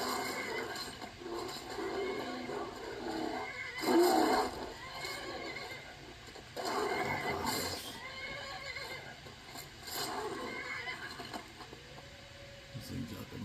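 Horse neighing and whinnying in the Skyrim video game, several drawn-out calls recurring every few seconds over steady ambient game sound, with clip-clop hoofbeats mixed in.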